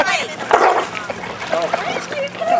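A dog barks and yips a few times amid overlapping chatter from several people nearby.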